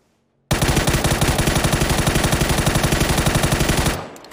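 Sustained automatic fire in PUBG, with a long burst of evenly spaced, loud rapid shots that starts abruptly after a brief silence and runs for about three and a half seconds.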